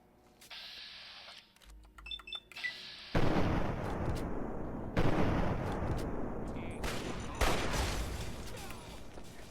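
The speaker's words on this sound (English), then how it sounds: "And he set off my other mine" In Fallout 3, a planted mine goes off with a heavy booming blast that leaves a long rumbling roar, after several sharp clicks and thuds of in-game action, then further booming bursts follow.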